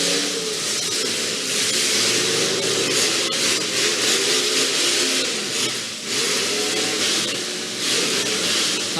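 A demolition derby car with a failing transmission revving hard at a night derby, a continuous loud grinding engine roar that dips briefly midway, with crowd and arena noise behind it.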